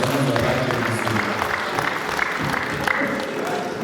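An audience at a celebration applauds, a dense, even wash of clapping that holds steady throughout, with voices mixed faintly underneath.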